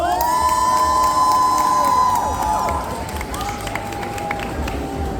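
A lively crowd at a cosplay contest in Le Mans cheers and shouts loudly, with whoops rising over a steady roar that settles slightly as scattered claps continue.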